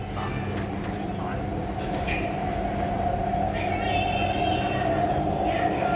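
An MTR West Rail Line C-train travels between Hung Hom and Nam Cheong, giving a steady onboard rumble with a sustained tonal hum and occasional faint squeals, continuous and moderately loud for the whole stretch.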